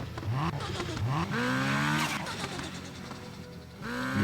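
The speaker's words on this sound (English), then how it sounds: "this is the sound of the car" Turbocharged car engine in GTA San Andreas revs up in repeated rising sweeps, loud and close, with a brief lull before another climb near the end.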